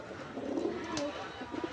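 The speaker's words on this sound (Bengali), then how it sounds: "পোষ মানানো কবুতর, দেখছেন হাতে।" A tame Maya pigeon held in a hand coos in soft, low, rolling bursts, close and fairly quiet over steady background noise.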